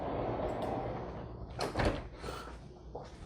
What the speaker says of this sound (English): I like how the doors slide.